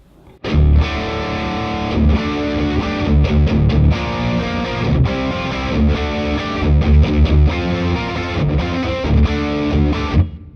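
Heavily distorted electric guitar through an EVH distortion pedal playing a driving riff, loud and continuous with chugging palm-muted hits and sustained chords.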